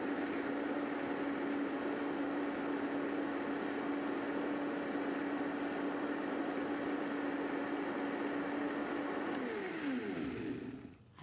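A blender whirs steadily while blending a vegan strawberry shake, a loud continuous motor drone with a steady hum that holds for about ten seconds, then winds down as it is switched off.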